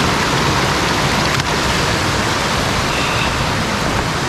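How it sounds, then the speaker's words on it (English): Crystal clear alpine creek water rushing over rocks in the mountains, a loud, steady broadband wash of flowing water heard up close, continuous for several seconds with no voices. "I just love these alpine creeks"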